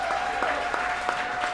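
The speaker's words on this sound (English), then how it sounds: "Give yourselves a round of applause." Brief applause from a bar-and-grill crowd at a live sports talk show taping in Kansas City, moderately loud, with a steady tone running underneath.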